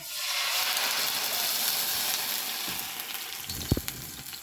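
Ginger and green chili paste sizzles in two spoonfuls of white oil, a loud, steady hiss that gradually softens, with a couple of sharp clinks near the end.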